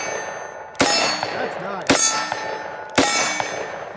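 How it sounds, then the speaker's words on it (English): Three .44 Special rounds from a revolver strike a steel target, each a sharp metallic clang ringing out about a second apart, with a brief spoken comment. "Let's smack that steel a few more times."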